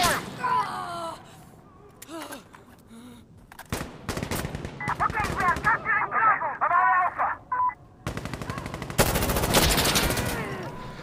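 Gunfire in the tactical shooter Insurgency Sandstorm crackles in loud, rapid bursts mixed with game effects, while a player shouts excitedly over the shooting.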